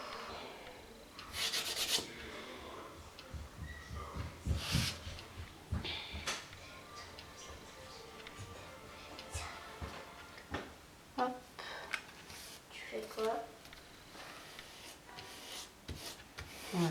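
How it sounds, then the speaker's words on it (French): A hand rubs over paper card on a cascade card to press it flat and remove excess, making close, quiet scratchy rubbing strokes in irregular bursts. "je frotte pour enlever un peu l'excédent quand même"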